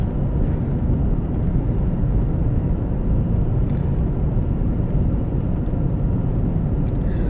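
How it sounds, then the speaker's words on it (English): Heavy trucks pass along a quiet road during lockdown in New Zealand, a continuous loud engine and tyre roar that fills the whole stretch without breaks, with no voices. "I must say that the trucks now sound very loud."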